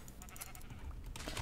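Sheep bleating in Minecraft during a round of shearing, a few short wavering bleats mixed with other game noise, no talking.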